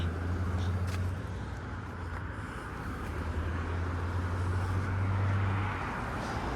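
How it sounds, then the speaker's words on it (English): A 960 Steeles West Express city bus approaches along a busy suburban street, its low steady engine drone rising and falling beneath constant traffic and wind noise, with no one talking. "Here comes the 960 Steeles West Express bus"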